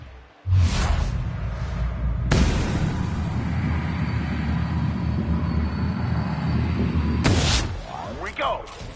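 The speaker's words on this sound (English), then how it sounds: "Deploying odor neutralizing aerosol spray now." In the video game The Outer Worlds, an odor-neutralizing aerosol spray lets out a loud, sustained hiss lasting several seconds. It cuts off abruptly and is framed by brief whooshing bursts, with a voice present nearby.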